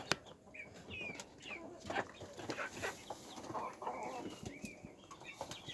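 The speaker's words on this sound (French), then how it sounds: "il y a le vieux quasi, une vieille poule et la maman d'Arco." Chickens, among them an old hen, cluck softly in the evening with scattered calls and a wing flap or two, faint and at a moderate distance, with no talking.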